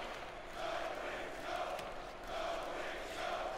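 A hockey arena crowd in the NHL 16 video game roars in a steady, swelling wash, rising and falling in broad waves, moderately loud with no clear talk on top.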